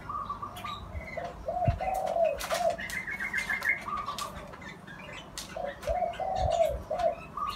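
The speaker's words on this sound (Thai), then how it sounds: "โน่นเสียงขันอยู่โน่นครับตัวหมาย" Zebra doves cooing at a home front yard, one male's rhythmic phrases repeating nearby with other soft coos, chirps and a burst of wing flapping, fairly clear over light background noise.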